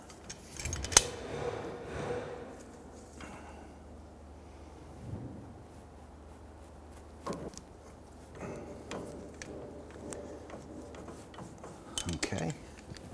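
Large locking pliers working a jam nut on an outer tie rod of a 2005-2021 Nissan Frontier: faint, scattered metallic clinks and taps spaced across a quiet background.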